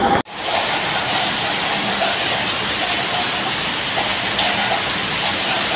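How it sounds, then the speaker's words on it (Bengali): Heavy rain pours down just outside a balcony, a steady, dense hiss that stays loud and unbroken from start to finish, with no one talking. "বৃষ্টিতে"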